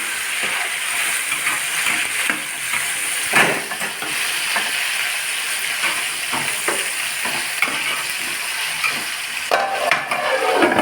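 Tomatoes cook down in a pan for an Andhra fish curry, a steady bright sizzle with occasional clinks and scrapes of a stirring spoon, close and continuous with no talking.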